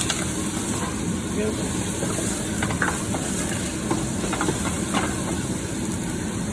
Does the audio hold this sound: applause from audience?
no